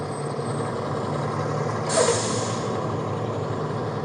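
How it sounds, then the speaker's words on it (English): A heavy truck on a road lets out a loud burst of air-brake hiss midway through a continuous rumble of traffic noise close by. "That truck's going to be really loud."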